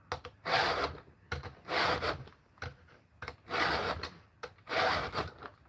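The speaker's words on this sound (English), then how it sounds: "I can just sharpen everything with the same file set up" A hand file sharpening a saw chain, rhythmic rasping strokes in regular bursts roughly once per second, close and fairly loud with short pauses between each pass.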